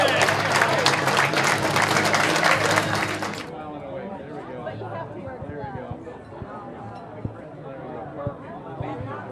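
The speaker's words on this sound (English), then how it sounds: "Round of applause, everybody." Applause from a crowd at a 50-year high school class reunion, a dense burst of clapping for about three seconds that stops abruptly, then crowd chatter and babble carry on underneath.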